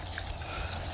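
Water trickles steadily along a garden pond stream as it is filled, a constant close babble and splash with no voices.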